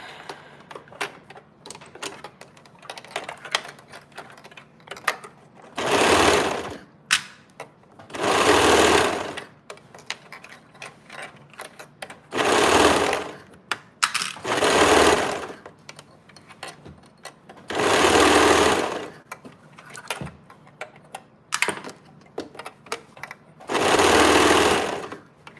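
A serger sews a dress neckline in about six short, loud bursts of rapid mechanical stitching, each separated by quiet gaps with faint handling noises.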